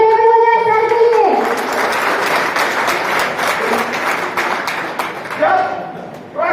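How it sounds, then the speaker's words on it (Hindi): An indoor seminar audience breaks into applause for the speaker, dense clapping that swells after a moment and holds for several seconds, with a voice speaking before and after it. "एक बार शानदार ताली हो जाए सर के लिए।"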